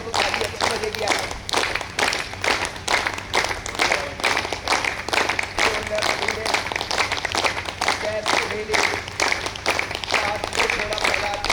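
Group clapping at a yoga workshop in a university physical education department, a steady fast rhythm of many hands applauding together throughout, fairly loud and continuous.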